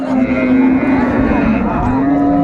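A dairy cow or calf moos at Raniganj cattle market in Dinajpur, a loud, close, sustained low bellow lasting the whole moment, with market murmur underneath.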